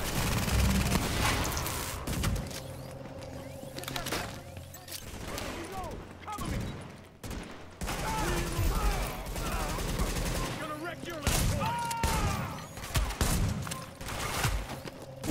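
Gunfire in The Division, dense volleys of shots and booms running throughout amid busy game noise, with players talking over it at moderate level.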